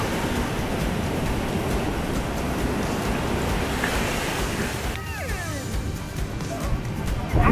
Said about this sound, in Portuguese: a onda do mar vem agora e vai levar ela